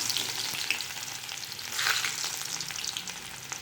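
Urad dal and onion fry in hot oil for ragi semiya upma, a close, steady crackling sizzle with a brief louder burst of stirring midway.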